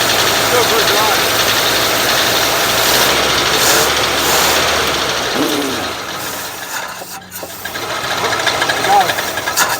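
A 1957 Chevy engine idles steadily and loudly up close, a rough continuous rumble that dips briefly partway through before picking back up, with voices talking faintly underneath.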